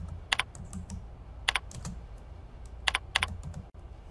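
Keys on a computer keyboard are typed in short bursts of clicks, a few quick strokes at a time with pauses between, close and fairly quiet over a low background hum.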